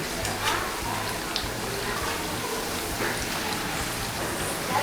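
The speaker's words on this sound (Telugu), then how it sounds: "మీడియం ఫ్లేమ్లో పెట్టి వేయించుకోవాలి." Sweet corn vadas frying in hot oil over a medium flame, a steady crackling sizzle like light rain that stays even and close throughout.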